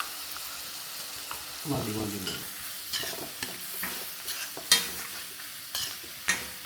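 A masala of chilli and turmeric powder fries in a pan for Coimbatore-style arisi paruppu sadam. A utensil scrapes and stirs it in irregular strokes over a soft sizzle, and a voice briefly speaks one word.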